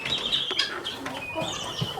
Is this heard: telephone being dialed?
no